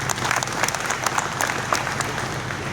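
A crowd at a political speech breaks into sustained applause, with many hands clapping steadily and densely and individual claps popping out of the dense wash.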